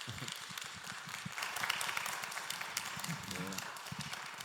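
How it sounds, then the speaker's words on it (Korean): Audience at a church lay retreat lecture claps to welcome the guest speaker, scattered hand claps mixed with voices and shuffling in a hall. "감독님께서 나오실 때 큰 박수로 환영해 주시면 감사하겠습니다."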